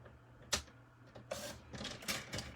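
Paper being cut for a paper-pumpkin card craft project: a few sharp crisp snips and slicing strokes, close and fairly quiet, spaced irregularly over a couple of seconds with no talk over them.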